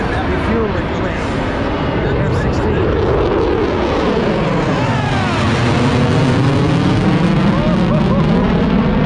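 Four F-16 fighter jets pass at an airshow in Atlantic City, New Jersey, a loud broad roar that swells and shifts in pitch as they fly by, with talk over it.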